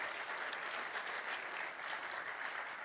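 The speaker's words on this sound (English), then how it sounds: "Quick round of applause for your Golden Gophers." A crowd applauds the Golden Gophers football team at a uniform unveiling, a dense, even patter of many hands clapping, fairly distant and sustained throughout.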